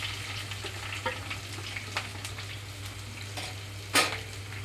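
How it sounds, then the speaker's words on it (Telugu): Chopped onions and green chillies sizzle and crackle in hot oil with tempering seeds for a cluster bean gravy curry, a steady close frying hiss broken by a few sharp pops and stirring clinks. "తాలింపు అంతా చక్కగా చిటపటమంటూ వేగేటప్పుడే ఇందులోనే కట్ చేసి పెట్టుకున్నాం ఉల్లిపాయలు, పచ్చిమిరపకాయలు కూడా వేసేస్తున్నాను"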